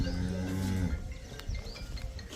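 A dairy cow lows once in a deep, drawn-out call close by at a cattle farm, then quieter farmyard background follows.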